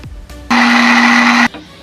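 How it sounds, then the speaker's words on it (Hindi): An electric blender beats sponge cake batter after cooking oil is added: a loud, steady motor whir that starts abruptly, runs for about a second, then cuts off, with no voices. "अब इसमें कुकिंग ऑयल शामिल करेंगे और इसको भी ब्लेंड करेंगे"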